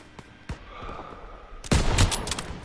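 Gunfire from a World War II shooter game, a couple of isolated shots followed by a louder burst of rapid rifle or machine-gun fire up close.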